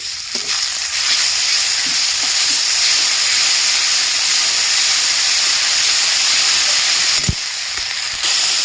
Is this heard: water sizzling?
yes